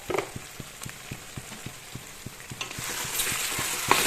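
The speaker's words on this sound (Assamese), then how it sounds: "এইখিনি এনেকৈ ভাজি লওক।" Duck meat frying with chilli, coriander and cumin powders in a pan gives a steady crackling sizzle, with regular soft scraping strokes from stirring that grow louder toward the end.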